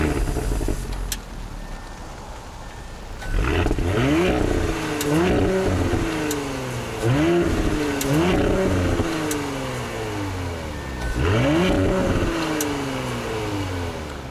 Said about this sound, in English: I'll let you guys hear what this engine sounds like really quick